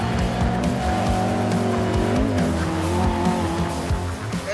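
Mark 1 Lotus Cortina with its twin-cam 1.6 litre engine howls around the Cadwell Park circuit, a loud sustained rasp with shifting revs, gear changes and tire squeal, heard close up without talk.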